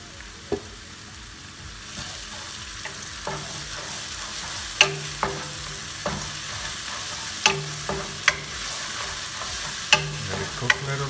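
Cauliflower manchurian sautés with soy sauce in a pan, a steady sizzle and fry broken by repeated sharp scrapes and clacks of stirring, close and alone without speech.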